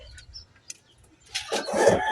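Chickens cluck close by in a noisy burst in the second half, after a quiet stretch with faint sounds.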